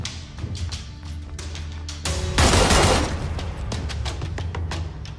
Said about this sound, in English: When shooting from a standing position, there is substantial recoil and sway to contend with, especially when firing rapidly.